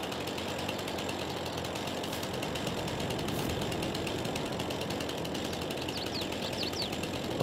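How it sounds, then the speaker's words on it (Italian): Chainsaw cutting trees in Farming Simulator 22, a steady rattling motor drone that runs loud and unbroken for the whole stretch with no pauses. "tirate fuori la motosega"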